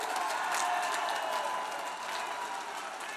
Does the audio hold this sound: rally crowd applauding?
yes